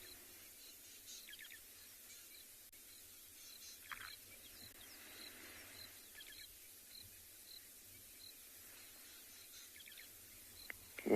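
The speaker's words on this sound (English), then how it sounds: "take in all the sounds going on around us, the birds and the frogs and this light" Birds and frogs call faintly at sunset on a safari at Tswalu in South Africa, with scattered thin chirps and short calls over a quiet, distant background.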